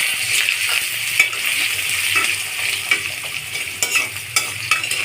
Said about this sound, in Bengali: এখন দিয়ে দেব কেটে রাখা আলু।